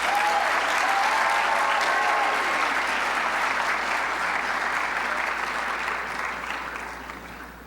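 Audience at a high school speech competition state finals applauding in a long, dense, sustained roar of clapping that slowly tapers off toward the end, with no talk over it.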